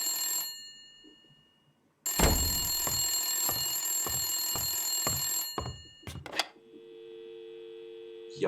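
An old-fashioned bell telephone rings in the Blacksad video game, a loud metallic trill pulsing steadily for several seconds before cutting off into clattering and a low hum, with brief game noise around it.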